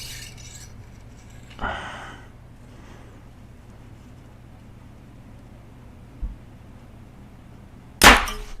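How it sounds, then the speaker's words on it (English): A TRX38 G2 compound bow fires an arrow through a sheet of paper for tuning, giving a single sharp, loud snap near the end. A softer thump comes earlier, over a quiet background hum. "We're going to shoot through paper again"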